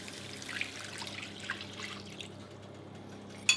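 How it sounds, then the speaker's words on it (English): Warm milk, two cups, pours into a cooking pan as a soft, close trickle that ends with a small splash, with no talk. "next we're going to add 2 cups of warm milk."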